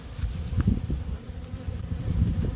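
Honeybees hum steadily around an open hive short of frames, a dense low buzzing with individual bees droning close by, no voices.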